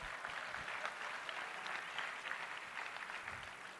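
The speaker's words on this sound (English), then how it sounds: "Let's give him a round of applause." An audience applauds at an Alpha Phi Alpha public program, the steady crowd clapping soft and somewhat distant, continuing evenly throughout without voices.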